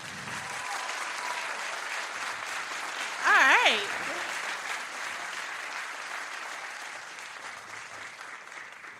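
An audience at a talk on Arkansas public schools claps steadily for several seconds, a dense, even patter that fades slowly, with a man's brief spoken word cutting over it midway.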